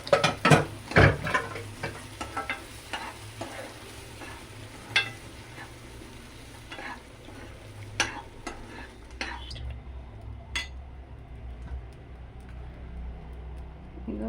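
Cooked lentils are added to hot oil and stirred for palak dal tadka, a soft sizzle under clattering spoon scrapes and taps against the pan, busier at first and then settling.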